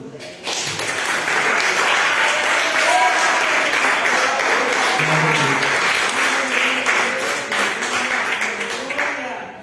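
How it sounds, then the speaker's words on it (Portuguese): An audience in a church breaks into sustained applause, loud and steady clapping that swells and fades out at the end. "Dá uma salva de palmas."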